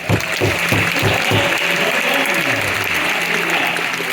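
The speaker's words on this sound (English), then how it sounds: "gently pull it off so that blindfold comes off of your head to a thunderous round of applause." A large audience at a mentalist stage show breaks into loud, dense applause, with a few rhythmic claps standing out at first before it settles into a steady roar of clapping.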